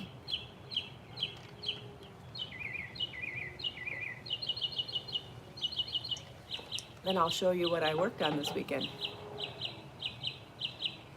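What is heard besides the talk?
birds chirping and chickens clucking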